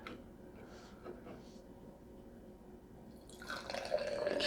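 A can of Southern Tier Brewing 8 Days a Week blonde ale is opened and poured, with faint liquid trickles early on and a louder, fizzing splash of beer filling a glass toward the end, close by.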